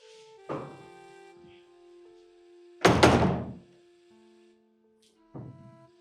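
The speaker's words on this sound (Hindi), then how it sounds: "मैं दरवाजा खोल कर आती हूँ" A door opened indoors in a Hindi domestic scene: a soft thunk near half a second, a louder, longer clunk and rattle around three seconds, and a final bump near the end, with a quiet background tone and no talk.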